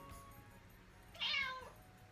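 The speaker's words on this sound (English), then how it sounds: "Is that you, little kitty?" A cat gives one clear meow in a quiet indoor room, short and fairly close, rising out of faint background hum.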